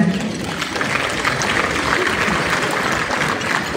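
Guests at a wedding reception clap together in a dense, steady wash of applause that holds strong and even for a few seconds.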